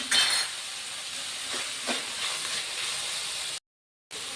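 Garlic ginger paste sizzles in a hot pan for fried rice, a steady close frying hiss with light stirring scrapes, broken by a short silent gap near the end.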